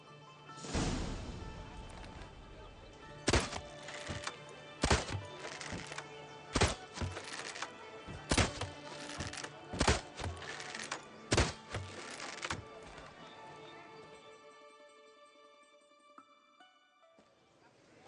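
Arrows striking red targets in The Witcher 3: a series of sharp thunks spaced a second or so apart over steady game ambience, fading to quiet at the end.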